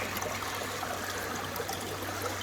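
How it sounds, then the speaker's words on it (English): Water rinses quartz gravel in a gold sluice box, a steady close trickle and splash running evenly over a low hum. "Rinse all that quartz off of them."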